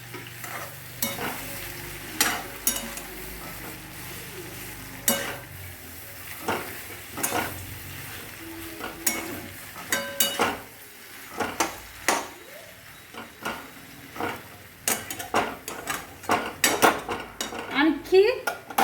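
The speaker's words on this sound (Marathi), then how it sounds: "आता भेंडीला थोडंसं हलवल्यानंतर" Stuffed okra is stirred in a sizzling pan, with repeated clinks and scrapes of a spoon against metal over a steady frying hiss, close and without talk.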